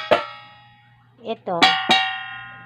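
Oblong plate struck three times in a kitchen, each a clear ringing metallic tone with a long fade, and a brief spoken word between the strikes.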